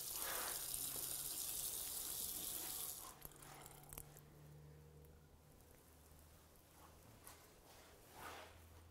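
Water gushes steadily in a broadband rush for about three seconds, then drops to a faint trickle with scattered small drips and knocks.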